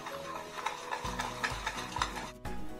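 A spoon stirs biscuit cake batter with Eno fruit salt mixed in, making a rhythmic series of soft scraping strokes against the bowl roughly every half second, close and fairly quiet, with no talk.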